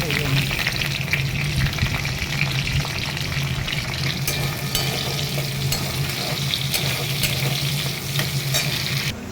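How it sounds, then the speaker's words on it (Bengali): Cinnamon, cardamom, whole spices and capsicum fry in hot oil with a loud, steady, close sizzle, with stirring scrapes running through it and no talking. "দারচিনি, ফোড়ন আর ক্যাপসিকাম, এটাকে ভালো করে ভেজে নিই"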